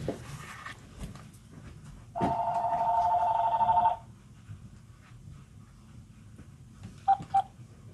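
A phone rings during a quiet indoor devotional session, with a clear electronic ring lasting about two seconds and two short tones later, in a near-silent room.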